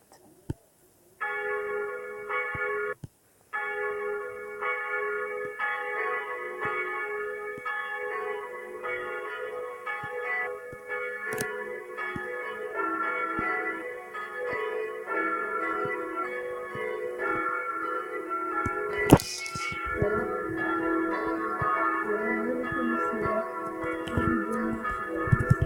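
Church bells swing in the belfry of Notre-Dame des Sables, a three-bell peal beginning with the smallest. They ring in steady, overlapping metallic tones for a long stretch, with a sharp knock partway through.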